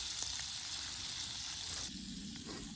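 Crow breast searing over a bed of hot coals at a hunting camp, a loud, close, continuous sizzle that eases slightly near the end, with no talk.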